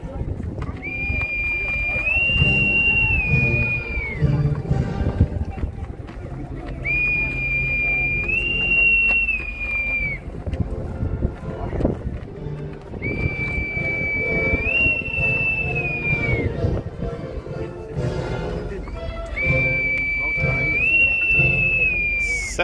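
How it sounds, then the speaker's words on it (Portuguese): Aboard a Navy ship docked at Cabedelo, a boatswain's whistle blows four long calls in a row, each shrill tone rising and then trilling, loud over a noisy crowd and background music. "Sete vivas de apito."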